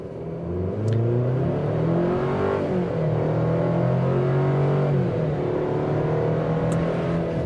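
A 2023 Chevrolet Colorado Trail Boss pickup with a four-cylinder engine and four-wheel drive accelerates hard from a stop, its engine droning up through rising pitches with clear shift dips, loud and close throughout.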